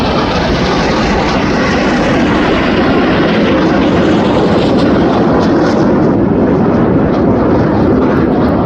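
Red Arrows jets in a flying display at RIAT, trailing red, white and blue smoke, make a loud, continuous roar that holds steady throughout, with no voices.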